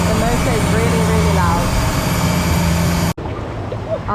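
A loud boat motor drones steadily at close range on the water near Phi Phi, Thailand, with people talking over it before the sound cuts abruptly to a quieter hum.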